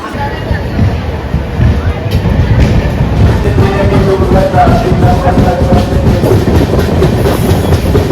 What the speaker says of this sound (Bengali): ট্রেনটি এখন দুরন্ত গতিতে যাচ্ছে আর সেই সঙ্গে আওয়াজটাও কিন্তু খুব জোরেই হচ্ছে